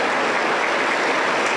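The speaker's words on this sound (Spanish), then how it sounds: "Aplauso para el Señor, aplauso para Cristo Jesús." Church congregation applauding, a steady, dense roar of many hands clapping together, loud and continuous throughout.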